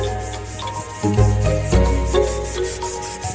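Coarse, steady rubbing of sandpaper against a wooden bow handle, close up, with repeated back-and-forth strokes that swell and fade in loudness.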